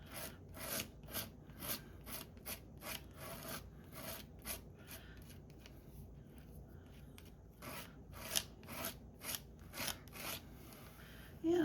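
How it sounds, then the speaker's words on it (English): Texture paste being scraped off a surface in repeated rhythmic rasping strokes, close and fairly quiet, with a brief lull midway before the scraping resumes, no talking. "I might be scraping too much, a little overkill"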